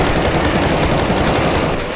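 Sustained automatic gunfire from many players in CS:GO Zombie Escape, a loud dense rattle of overlapping shots with no break.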